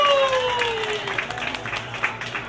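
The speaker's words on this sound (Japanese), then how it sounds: "大きな拍手をお願いします。" Moderate audience applause greets a band at an outdoor street festival in Imaiike, scattered claps carrying at a medium distance while amplified feedback-like tones fade underneath.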